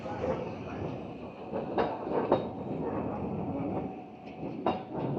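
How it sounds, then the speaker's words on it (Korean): A tram rumbles past nearby in Sapporo with steady low clatter and occasional clanks and squeaks from the wheels, no voices over it. "트램 같은 거."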